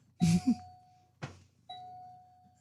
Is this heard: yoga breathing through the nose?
no